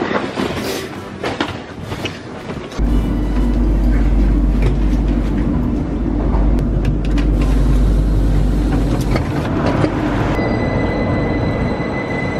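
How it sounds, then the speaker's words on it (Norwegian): Train pulling into a station, a deep steady rumble of wheels and carriages coming close and growing loud, with squeals and metallic clatter over it. "Der er toget mitt, tror jeg."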